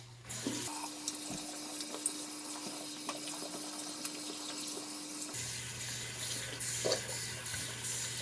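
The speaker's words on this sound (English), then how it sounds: "I'm gonna rinse my hands." Running tap water pours steadily into a sink while hands are rinsed after hair dyeing, a continuous close splashing rush with a faint pipe hum, without speech.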